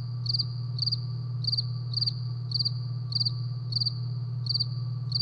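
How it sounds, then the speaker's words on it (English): A cricket chirps loudly indoors, repeating short pulsed trills at an even, steady rhythm of roughly two per second over a constant low hum. "it was ridiculously loud, making that cricket noise"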